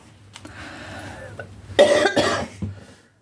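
One person coughs hard a couple of times in a quick fit, close by, after a moment of quiet rustling.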